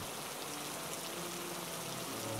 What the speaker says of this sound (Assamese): আজিতো বৰষুণ কমাৰ নামেই লোৱা নাই